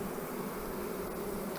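Honey bees buzzing at a beehive during queen-cell starter preparation, a continuous low drone of many insects, close and steady, with no voices.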